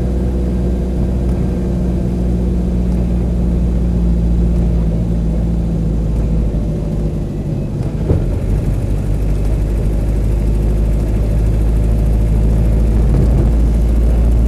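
A Land Rover 110 with a 2.5 diesel engine, worn transmission and tired bushes, is being driven, giving a loud, continuous low engine drone and cabin rumble that stays steady throughout.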